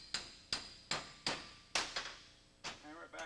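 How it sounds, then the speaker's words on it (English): A hammer tapping a handle back onto its grooves, about eight sharp, distinct blows in an uneven rhythm, close and fairly quiet with no talk. "Hammer it back on and we're about ready to go."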